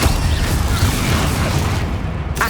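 Fiery spell blast in Hogwarts Legacy, Incendio cast as a steady roaring burst of flame with a dense low rumble throughout, loud and continuous, with a brief bright crackle near the end.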